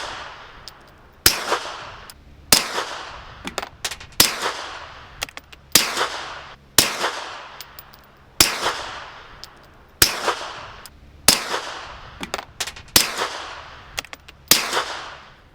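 Sharp suppressed gunshots fired through a Dead Air Odessa-9 Wolfman silencer in full-length setup, about a dozen loud cracks spaced roughly a second apart, each with a short decaying tail.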